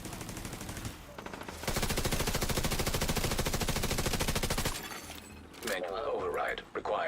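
Sustained automatic gunfire in the shooter game The Division, a dense rapid stream of loud rattling shots that runs for several seconds, then breaks off into scattered game effects.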